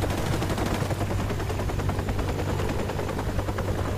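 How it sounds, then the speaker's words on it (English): A helicopter in Call of Duty Modern Warfare Remastered produces a loud, constant rotor thump throughout, with rapid machine-gun fire chattering over the drone and no talking. "Where's that chopper? That annoying chopper."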